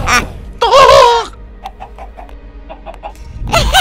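A cartoon chicken gives a loud, warbling, pitched cluck-squawk near the start, with brief voice bursts at either end and faint clicks in between.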